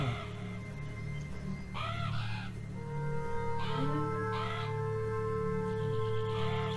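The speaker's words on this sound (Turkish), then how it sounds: "Of yine karga" Crow calls from the video game Beyond Eyes come in two separate bursts of rough, grating caws, standing out moderately against a continuous low droning background.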